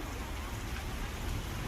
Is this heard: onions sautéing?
no